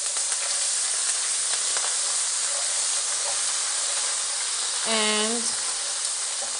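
Ginger garlic paste sizzles loudly and steadily in hot oil in a pan, a constant bright hiss with a short tonal squeal near the end and a brief word spoken over it.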